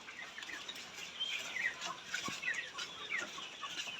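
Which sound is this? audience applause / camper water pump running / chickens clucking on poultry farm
chickens clucking on poultry farm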